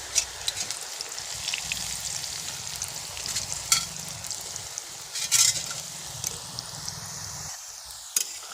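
Pieces of roti with chilli fry in oil in a pan, making a continuous moderate sizzle with occasional stirring scrapes, fairly close and without talk.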